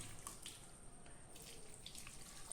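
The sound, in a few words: water poured into pot for cooking plantain and beef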